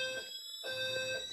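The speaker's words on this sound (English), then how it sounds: "So building B is in alarm" Two fire alarm systems, one in a garage and one in a house, sound together in steady, piercing electronic tones that hold continuously, with a brief dip before the alarm swells again.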